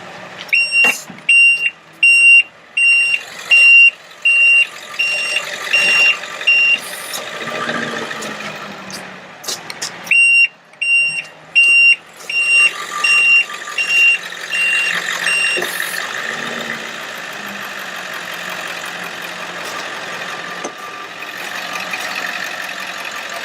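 A 1999 Ford F550 Altec AT37-G bucket truck beeps in loud, repeated high-pitched bursts over a steady diesel idle as its outriggers are raised. The beeping stops partway, then starts again before the engine drones on alone.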